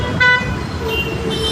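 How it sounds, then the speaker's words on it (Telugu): An electric unicycle's horn sounds two loud, close electronic toots, a brief one and then a longer one, against faint outdoor noise. "సార్ హార్న్ ఎలా ఉంది సార్?"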